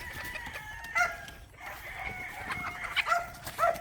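Pullets and young roosters (stags) being readied for a fiesta event, clucking and crowing close by in a flock, with several overlapping calls and sharper crows near the end.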